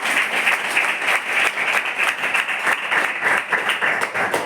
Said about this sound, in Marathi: टाळ्या वाजवा तिच्यासाठी.